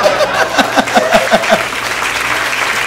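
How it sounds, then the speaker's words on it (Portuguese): A stand-up comedy crowd applauds under a string of short, rhythmic bursts of laughter or vocal sounds from the room, steady and moderately close. "Ah, vocês estão aplaudindo porque minha avó morreu."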